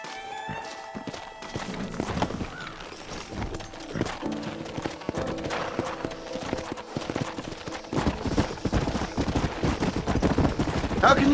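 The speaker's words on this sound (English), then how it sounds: "Horses are over here!" Horse hooves clip-clop steadily in the Red Dead Redemption video game, mixed with scattered gunshots and other game sounds at moderate loudness.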